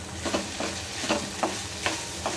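A spoon stirs red chili powder, garam masala, turmeric, asafoetida and coriander powder in a frying pan for radish-leaf bhaji, with rhythmic scraping strokes about twice a second over a steady sizzle.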